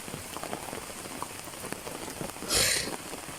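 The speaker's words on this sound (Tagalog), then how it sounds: "Kaya nagpaulan-ulan tayo." Steady rain falls during a storm, a dense close patter on surfaces throughout, with a brief louder splashing swell near the end.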